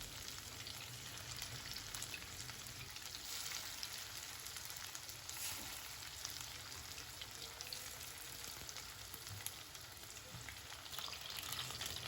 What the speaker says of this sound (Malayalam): ചിക്കൻ്റെ ഓരോ പീസ് എടുത്ത് പാനിൽ വെക്കുക.